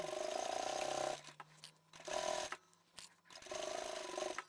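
Fast, steady whirring of a sewing machine top stitching a handbag, running in short bursts separated by brief pauses, close and quiet.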